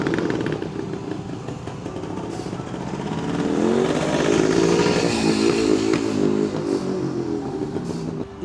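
A Soltana motorcycle on new Michelin Road Classic tyres rides past. Its engine drones steadily, then swells louder as it revs and accelerates midway, and eases back toward the end.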